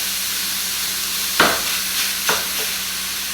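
Food sizzles in a cast iron skillet over a steady hiss while a Pampered Chef mix and chop scrapes through it in two brief strokes.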